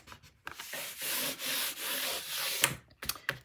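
Paper being burnished by hand on a 10 x 9 winter mini album, giving close, steady rubbing strokes in a few bursts with short pauses and light taps between them.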